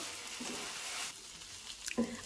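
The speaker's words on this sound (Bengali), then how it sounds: "এখন একটু নেড়েচেড়ে ভালোভাবে মিশিয়ে নেব।" Potatoes with tomato sauce and chopped coriander stirred in a hot pan, a gentle sizzle with a few soft scraping strokes, close and fairly quiet, with a brief clack near the end.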